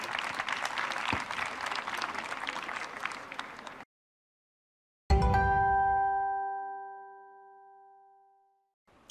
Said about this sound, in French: Vous pouvez les applaudir bien sûr.